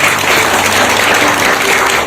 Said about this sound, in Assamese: জোৰছে হাত চাপৰি প্ৰভুৰ নাম